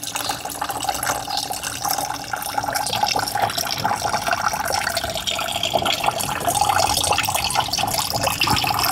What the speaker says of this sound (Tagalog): Tutumbahin para lumabas yung tubig.